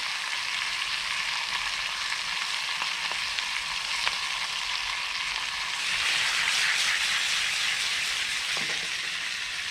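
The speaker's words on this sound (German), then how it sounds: "Ich gebe jetzt mal noch die Zwiebeln dazu. Kann man auch noch ein bisschen anbraten." Onions fry in a pan on a small camping stove, a steady bright sizzle and hiss that swells slightly midway, with occasional light clicks and scrapes of stirring nearby.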